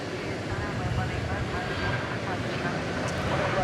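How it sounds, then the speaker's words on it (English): A Boeing 767 airliner at DFW Airport at night makes a steady, broad jet roar at a distance, with some talk over it. "We're about to see a 767 in action."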